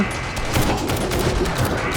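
Rapid, continuous gunfire in the survival game 7 Days to Die rattles as a dense, steady volley close at hand, with a faint voice underneath.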